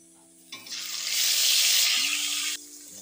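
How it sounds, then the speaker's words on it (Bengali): Pabda fish hit hot mustard oil in a kadai and set off a loud, bright sizzle that swells, holds steady for about two seconds, then cuts off abruptly, with a faint low hum underneath. "তারপর আমি একে একে মাছগুলো কড়াইতে দিয়ে দেব।"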